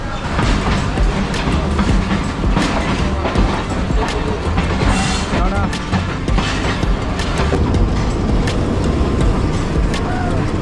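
A Chapainawabganj shuttle train runs loud and close, with a steady rumble of wheels and rhythmic clickety-clack of the railway cars throughout, and faint voices in the background.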